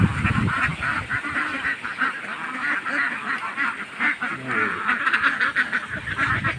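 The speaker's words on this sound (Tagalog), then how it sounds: "Marami rin akong alagang pato." A flock of domestic ducks quacks loudly and continuously nearby, with overlapping calls and honks coming from a farmyard beside a rice field.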